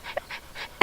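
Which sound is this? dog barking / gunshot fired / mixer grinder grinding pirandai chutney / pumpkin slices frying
dog barking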